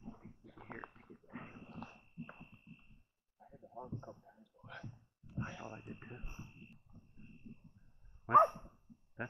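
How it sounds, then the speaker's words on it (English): A puppy barks outdoors alongside other dogs, scattered sharp barks spread across the stretch at moderate distance, with someone talking intermittently over them. "My puppy barking"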